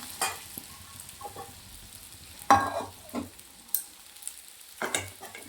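Green chilies roast in a pan under a spatula, with intermittent scraping and stirring strokes over a light sizzle and quiet gaps between the strokes.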